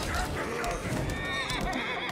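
A horse neighs and whinnies in the video game Lost Ark, a loud close call with hoof clip-clops under a dense game soundscape, while players talk over it.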